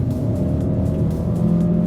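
A 2024 Chery Omoda 5 accelerating with a steady, loud engine drone and road rumble from inside the car, holding a continuous tone throughout.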